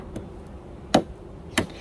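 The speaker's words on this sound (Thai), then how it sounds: "เมื่อตอกเสาลงไปนะคะ" A sharpened bamboo stake is driven into garden soil with a hammer, giving two sharp, close knocks about half a second apart after a faint earlier tap.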